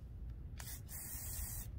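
A WD-40 aerosol can sprays in a steady hiss lasting about a second, close and fairly loud, applied during steering work on a Jeep XJ, over a low rumbling background.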